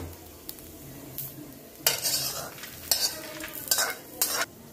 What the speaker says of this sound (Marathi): आता ते खोबरं आपण एका ताटामध्ये काढून घेऊ.